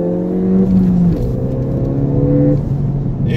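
Ford Fiesta ST with a small rear-mounted turbo accelerates hard, its engine note rising in pitch through a gear, dipping briefly at a shift, then climbing again, loud and close from inside the car.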